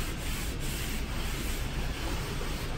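A floor sanding machine runs over damp timber flooring, giving a steady, close, broadband rubbing and grinding noise that continues evenly throughout with no voices.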